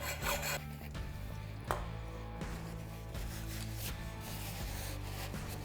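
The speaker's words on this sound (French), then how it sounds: "je préfère gratter tranquille avec la lime" Hand file scraping paint off a metal driveshaft part in a DIY Peugeot 106 build: repeated close rasping strokes at an even pace, over a steady low hum of background music.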